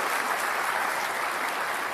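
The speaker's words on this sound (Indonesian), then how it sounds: "Bisa kita kasih tepuk tangan juga untuk Mas Anies Baswedan untuk pembukanya." Studio audience applause at a Jakarta gubernatorial debate, a thick, even roar of many hands clapping that holds steady and fairly loud from start to finish with no gaps.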